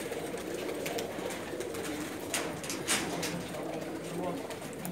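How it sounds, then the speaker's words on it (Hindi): Soft pigeon cooing murmurs steadily through a busy outdoor background in Jeddah, Saudi Arabia, with a few faint higher bird notes scattered over it. "उस्ताद नासर अल मतेरी साहब के कबूतर हैं जद्दा शहर में"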